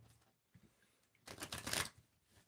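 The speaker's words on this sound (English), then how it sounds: "I'm going to riffle shuffle it 3 times," Riffle shuffling of a tarot card deck: a short faint ruffle of cards, then a louder burst of rapid card flutter lasting about a second, with quieter handling after.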